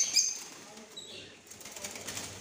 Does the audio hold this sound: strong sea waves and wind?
no